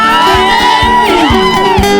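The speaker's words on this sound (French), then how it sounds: "Est-ce qu'on peut pousser des cris de joie?" A worship congregation at a French-language praise service cries out in joy, loud overlapping voices and whoops mingled with sustained music, with rhythmic low thumps underneath.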